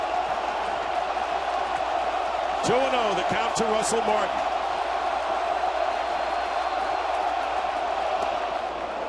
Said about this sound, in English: with this crowd roaring in on its feet